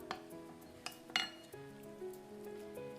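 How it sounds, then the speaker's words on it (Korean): Ladle and bowls clink as Korean samgyetang, chicken soup with eomnamu and sweet pumpkin, is served into dishes: a few sharp, close ceramic and metal chinks spaced over a quiet kitchen background. "그릇에 담아보도록 하겠습니다."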